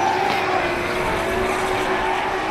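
An E46 BMW drift car screams around Hampton Downs during a competition battle, its engine a loud, sustained, steady drone held throughout without pause.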